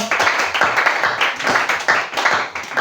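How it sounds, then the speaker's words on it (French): A church congregation at Peniel Tabernacle applauds steadily, with many hands clapping in a brisk, continuous patter close by that holds at an even loudness throughout. "Alors acclame encore très bien le Seigneur"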